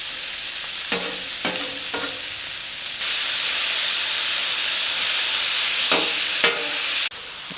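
Mushrooms and vegetables sizzle loudly on a hibachi griddle, a steady hiss of frying broken by several sharp scraping and stirring strokes.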